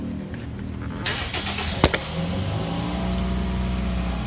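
A white automatic-transmission car, type S with push-button start, fires up: a brief click and crank give way to a steady idling engine rumble that settles and continues, moderately loud and close.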